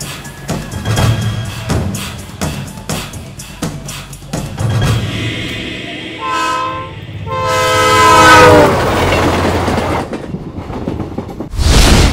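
The Godavari Express train rumbles into a station platform with rhythmic clacking, then a loud, sustained horn blast sounds close by, followed by a burst of noise at the end.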